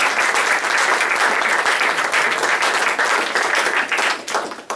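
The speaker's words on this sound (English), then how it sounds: "So let's give a round of applause to you." A live audience at Holy Name, gathered for an Irish Studies class, claps in a loud, dense round of applause that holds steady for several seconds before thinning slightly at the end.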